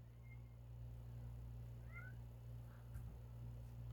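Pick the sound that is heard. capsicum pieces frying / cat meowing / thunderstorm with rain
cat meowing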